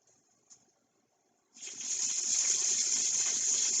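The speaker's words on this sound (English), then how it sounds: "you can see the sizzle already." Beef hits a hot pan for a stir-fry, the sizzle bursting in after a near-silent start and settling into a steady bright hiss with faint crackles.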